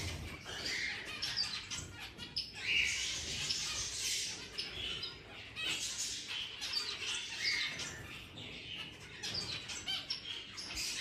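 Birds in an aviary chirp, squawk and call to one another constantly, a busy overlapping chorus of high, faint-to-moderate calls with occasional wing flutters and no talk.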